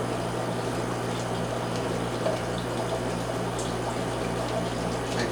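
Water refills a baby brine shrimp hatching container in a fish room, a steady, fairly loud rushing flow with no breaks, close by and alone.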